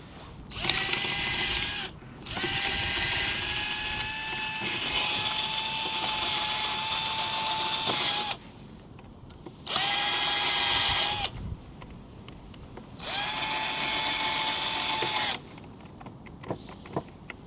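A power screwdriver set to maximum drives a 3 mm screw into the folding mechanism of a Xiaomi Mi Scooter Pro. It gives four close, loud whirring bursts: a short run, a long steady one, then two shorter spins with quiet pauses between.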